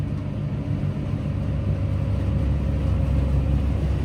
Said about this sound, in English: Because it is really pulling down on the tractor.